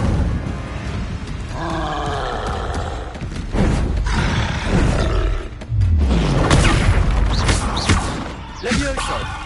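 The Incendio fire spell cast in the Hogwarts Legacy video game, with loud whooshing bursts, deep booms and grunting effort sounds from combat, several impacts in quick succession over a busy, continuous mix.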